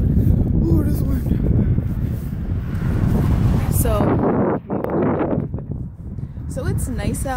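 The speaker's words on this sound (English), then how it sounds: "Oh, this wind." Wind gusting outdoors in cold weather, roaring and buffeting against the microphone in loud continuous rumbles while a person talks throughout.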